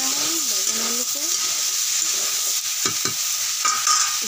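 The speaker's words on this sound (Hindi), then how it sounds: "बैगन को मैं 2-3 मिनट तक अच्छे से भून लूंगी" Eggplant and potato pieces frying for a steady sizzle, with occasional scraping stirs of a spatula against the pan; a faint voice hums briefly near the start.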